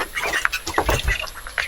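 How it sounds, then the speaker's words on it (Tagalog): A Muscovy duck on a small farm gives a quick series of close, loud quacks and hisses, with other farm birds faintly behind. "At saka nandito yung Muscovy duck."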